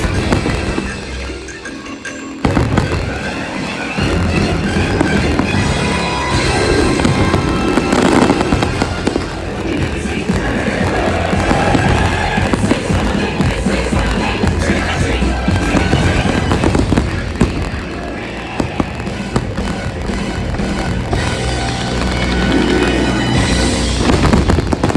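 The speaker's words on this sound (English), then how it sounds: "The fireworks are very incredible." Fireworks at Mickey's Not So Scary Halloween Party on Main Street at a Disney park: a dense, continuous barrage of loud booms and crackling bursts, sustained throughout with crowd noise mixed in.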